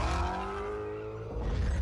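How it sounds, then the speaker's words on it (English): Dodge Challenger V8 muscle car growling hard with a rising tonal whine like tire squeal layered over a dense low rumble, loud and close throughout with no voices. "And the thunderous growl of hundreds of horsepower."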